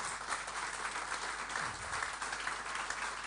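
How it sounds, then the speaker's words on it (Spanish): Steady applause from an audience at a talk event, dense and sustained throughout with no voices rising above it. "Un aplauso grande para la Josefa."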